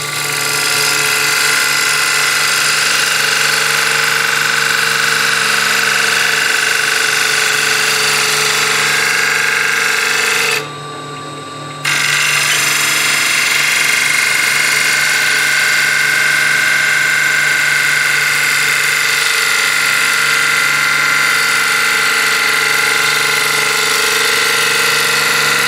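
A wood lathe spins a bowl blank while a tool makes a light shear scrape across the wood, giving a steady, loud, continuous whirring drone that cuts out for about a second partway through before resuming.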